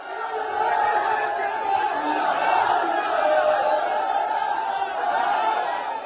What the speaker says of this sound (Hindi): यह सपा की रैली का वीडियो है।